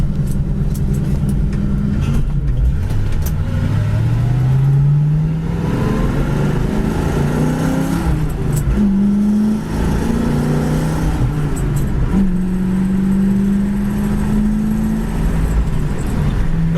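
A green 1968 Ford Mustang accelerates down the road, its engine note climbing in pitch through repeated upshifts, loud and continuous from inside the car.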